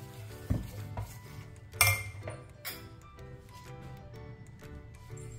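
A spoon mixing white dhokla batter with salt and powdered sugar in a bowl, with clinks and scrapes against the bowl, a couple of sharper knocks, and an irregular rhythm close up.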